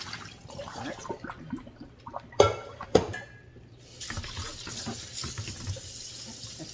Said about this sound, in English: Just gonna rinse off any residue.